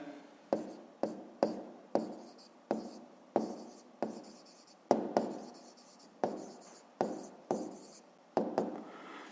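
Handwriting on paper while working a fifth-grade maths exercise: a steady series of about a dozen brisk, scratchy pen strokes close by, each starting sharply and fading, with short pauses between them and no voices.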